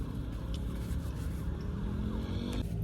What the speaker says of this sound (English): I do not like hearing those